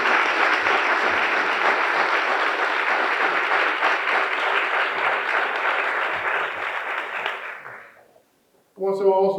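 A large audience at a county government address applauds loudly and steadily for about eight seconds, the sound thinning out before a brief burst of something else at the very end.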